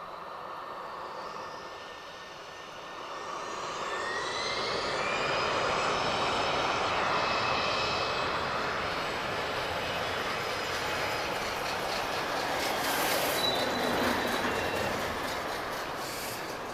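A jet airliner taking off at Lisbon Airport: a steady, broad engine roar that swells and holds, heard from a distance with no talking.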